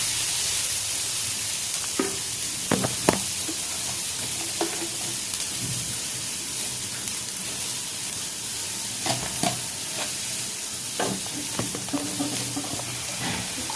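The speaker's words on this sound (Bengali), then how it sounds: "তেলের মধ্যে পেঁয়াজ মরিচটা দিয়ে দিলাম। ভালোভাবে নেড়েচেড়ে একটু ভেজে নিচ্ছি।" Onion and chili fry in hot oil with a continuous close sizzle, while a spoon stirs the pan and gives off scattered scraping clicks throughout.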